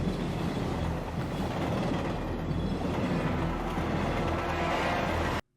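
A train from the animated film Batman: Gotham Knight rumbles steadily and loudly with a continuous mechanical clatter, then cuts off abruptly at the end.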